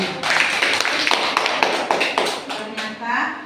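Young pupils in a classroom clap their hands together in a dense, uneven burst of sharp slaps that runs for a few seconds, loud and close, with some voices mixed in.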